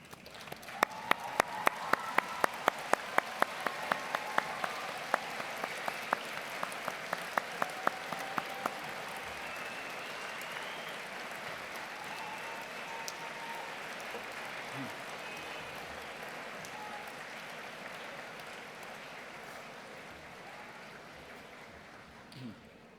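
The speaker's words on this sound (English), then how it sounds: "join me in showing your thanks with a huge round of applause" A large audience in a hall applauds at a university health and social sciences graduation ceremony, opening with some loud individual claps close by, then settling into a long, even wash of clapping that slowly fades.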